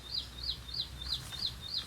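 An Asian koel calls repeatedly in a village near Botad, six evenly spaced rising whistled notes at moderate distance over a low steady background rumble.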